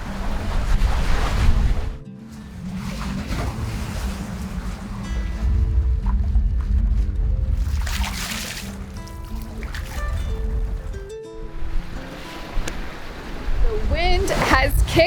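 Wind picking up at sea aboard a sailboat sailing alone toward Fiji in 17 to 19 knot southerly wind, a loud, continuous rushing roar with water wash and surges, close and steady with brief lulls, no talk.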